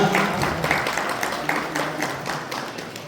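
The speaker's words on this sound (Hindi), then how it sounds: "जोरदार तालियां।" Loud, continuous applause from a crowd at a Kumaon Regiment founding day celebration in Haldwani, a dense steady patter of clapping lasting throughout.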